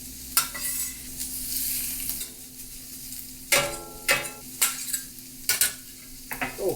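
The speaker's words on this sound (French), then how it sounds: "On laisse rôtir un petit peu la viande." Meat for chicken fried rice roasting in a hot pan, giving a steady close sizzle broken by several sharp scraping and stirring strokes of a utensil against the pan, with no talking.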